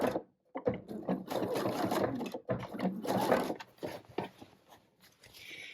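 Sewing machine stitching women's pyjama fabric in close, steady runs of rapid mechanical whirring, broken by short pauses between bursts.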